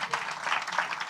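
A church congregation applauding during a sermon, a short, dense burst of many hands clapping together at moderate volume.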